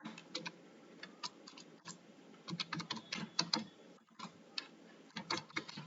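Keys clatter on a computer keyboard as a search phrase is entered into an online ads setup, with irregular bursts of quick clicks and brief pauses between words, close and fairly crisp.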